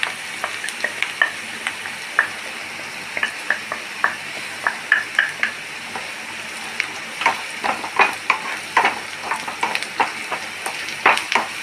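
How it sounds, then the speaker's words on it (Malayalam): Onions frying in a pan seasoned with fennel powder and turmeric, a steady sizzle broken by frequent scraping stirs of a utensil against the pan, close and fairly loud, with no voices. "സവാള ഒന്ന് ഫ്രൈ ആവണം."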